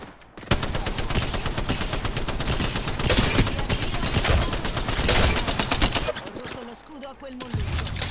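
Rapid automatic gunfire from an Apex Legends match, dense bursts of loud repeated shots filling most of the stretch with brief gaps, overlapping shots layered together.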